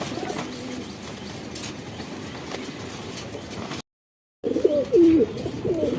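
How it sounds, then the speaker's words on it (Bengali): Big Shahjahanpuri pigeons coo in low, throaty bursts close by, with soft rustling. A brief silent gap is followed by louder, clearer cooing near the end. "পেয়ারটা দেখছেন সবাই, বিগ সাইজ, দুটোটা কবুতরই বিগ সাইজের কবুতর"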